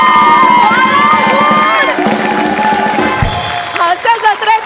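Studio audience on a Marathi comedy show erupts in loud, sustained cheering and whooping with scattered applause, a dense crowd roar that stays strong throughout and shifts into sharper individual shouts near the end.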